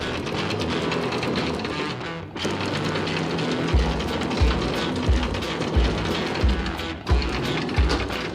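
An anchor windlass on a sailboat hauls in the anchor with a steady close mechanical whir and a series of rhythmic clunks roughly every half second, with no voices.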